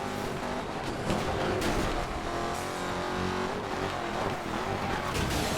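Race cars in the video game Need For Speed: Most Wanted roar continuously at high revs, with engine whine, passing cars and occasional tire squeal, loud and constant.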